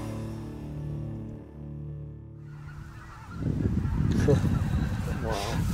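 Flock of geese honking during a waterfowl hunt, a dense overlapping chorus of calls that swells in over a low hum and grows louder toward the end, with a voice briefly audible.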